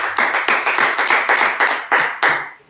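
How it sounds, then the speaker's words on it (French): Loud, close rhythmic hand clapping from a gathered crowd acclaiming a named figure during a religious talk, about a dozen even claps in steady succession that fade out at the end, with no one talking. "On acclame Muslim."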